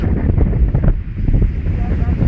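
Strong, steady wind of about 25 to 50 km/h on a beach roars and buffets the microphone outdoors, a continuous low rumble with a faint wash like surf behind it.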